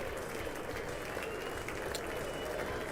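Audience applause at the 2023 State of the Union rolls on as a dense, steady wash of clapping heard from a distance, unbroken and fairly faint.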